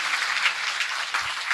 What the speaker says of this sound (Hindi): एक बार आप लोगों के लिए जोरदार तालियां।